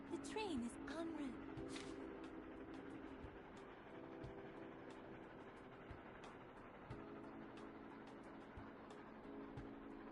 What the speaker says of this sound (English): The train is en route.